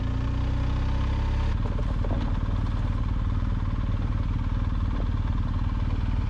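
A BMW R1250 GS Adventure motorcycle's engine runs loud and close on a loose rocky off-road descent, a steady throbbing drone with clatter from the terrain throughout.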